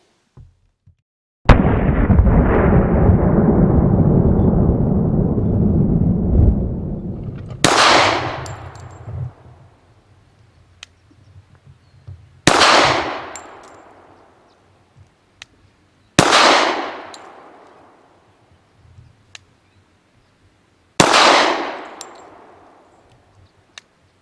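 Four sharp, loud shots from a Springfield XDm 3.8 pistol chambered in .45, fired outdoors and spaced several seconds apart, each with a ringing decay. A long steady rushing noise comes before the first shot.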